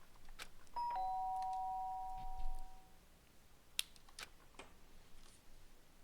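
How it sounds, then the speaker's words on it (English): A two-tone electronic doorbell chime rings once in the Danganronpa video game, clear sustained tones over quiet background, followed by faint clicks. "The sharp sound of the doorbell pierced my sleepy haze and pulled me back to the real world."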